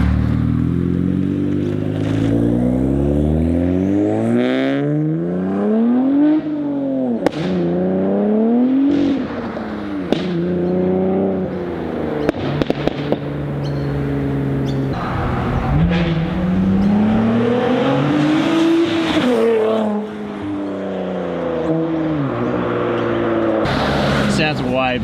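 A Nissan Z with a straight-pipe exhaust drives past or under way, its engine note loud and rising and falling through gear changes with a few sharp pops, while people talk over it throughout.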